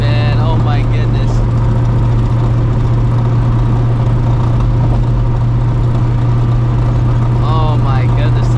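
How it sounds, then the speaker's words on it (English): A 600hp New Edge Mustang GT with a bad clutch idles and rumbles steadily throughout, a low engine drone with a strong hum, while someone talks over it at intervals. "Oh my goodness, this clutch is terrible. It does not sound good at all."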